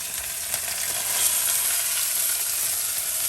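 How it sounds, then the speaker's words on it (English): Skate wing searing in a hot frying pan, a steady bright sizzle with a faint crackle running evenly throughout, close and alone with no voices. "Let that sear for another 5 minutes"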